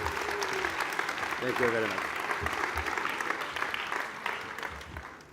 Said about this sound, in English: A round of applause for Carlos.